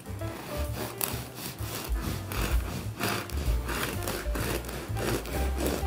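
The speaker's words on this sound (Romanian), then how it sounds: "Cu cuțit zințat o tăiem." A serrated knife saws through a crusty potato loaf baked in a lidded pot, a steady run of rasping back-and-forth strokes, close and clear with no talking.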